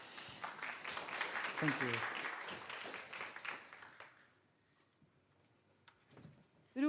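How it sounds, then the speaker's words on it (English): Fairly faint audience clapping at an open data skills event rolls for a few seconds and dies away, with a speaker's voice over it and briefly afterward. "give them a big applause."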